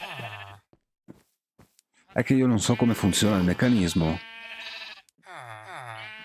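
Sheep bleating in Minecraft, a few short wavering bleats at the start and end, clear and close, with someone talking in between.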